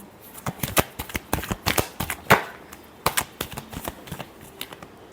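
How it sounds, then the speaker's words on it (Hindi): Tarot cards are shuffled in a series of sharp, quick riffling snaps, close and fairly quiet, coming in bursts with short pauses between. "Last shuffle."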